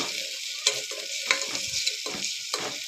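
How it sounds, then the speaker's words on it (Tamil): Green chillies with garlic, coriander and mint sizzle in a hot pan for mutton kulambu, with steady frying crackle and several distinct stirring scrapes of a spoon, close and continuous with no talking. "ஒரு 5 பச்சை மிளகாய் போட்டுக்கலாம். இதையும் போட்டு நல்லா வதக்கலாம்."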